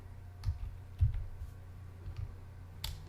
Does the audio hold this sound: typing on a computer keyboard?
yes